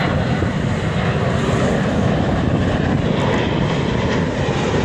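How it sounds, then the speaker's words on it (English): Airplanes flying overhead above a flooded park along Lake Nokomis, a loud, steady broadband engine roar that fills the whole stretch without letup, with no talk. "those are the airplanes that make it really, really hard to record something at this time of day"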